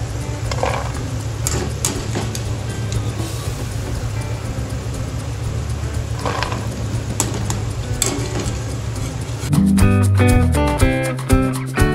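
Peanuts frying in a pan with masala, a continuous close sizzle with occasional stirring clinks, then a louder burst of rattling and scraping near the end as the pan is handled.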